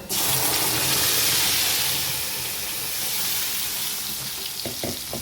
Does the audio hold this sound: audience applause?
no